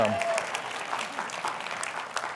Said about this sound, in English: that usually brings a big applause when she's here.